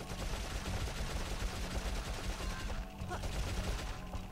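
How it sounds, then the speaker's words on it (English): Rapid gunfire from a gun in the video game Dark Cloud, a dense, continuous burst of shots that runs loud and steady throughout, with a brief dip near the end. "The gun is so much stronger when you're up close. It feels like you're getting more of your shots in there."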